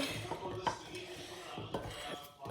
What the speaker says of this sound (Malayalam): ഇങ്ങനെ നല്ലോണം മിക്സ് ചെയ്തെടുക്കണം